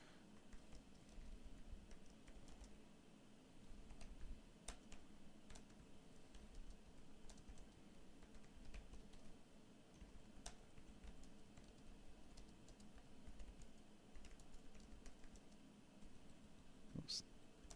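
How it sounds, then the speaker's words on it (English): Typing on a computer keyboard while setting up an E-Prime experiment, a steady run of soft, quick clicks under a constant background hum, continuing throughout with brief louder taps. "I'll just type out some pretty simple instructions"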